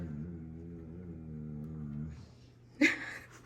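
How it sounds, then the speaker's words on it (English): A dog settling under someone's feet, giving a low drawn-out groaning whine, then a brief sharp huff or snort near the end, close and quiet. "That is my dog."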